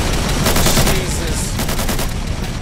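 Heavy .50 cal machine gun rips off rapid, continuous bursts in the Men of the Dead zombie video game, loud and dense for the whole stretch, with a voice briefly exclaiming over the gunfire.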